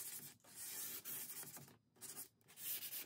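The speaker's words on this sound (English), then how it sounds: "I'm going to come back with some 220 grit sandpaper, not only to remove those areas that were chipping off" Sanding a milk-painted Jacobean buffet by hand with 220 grit sandpaper, a close, steady scratchy rubbing in repeated strokes broken by a few brief pauses.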